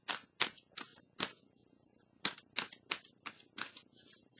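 Tarot cards being shuffled and laid down, a run of crisp papery riffles and flicks in quick uneven bursts, close and fairly quiet, with no voice.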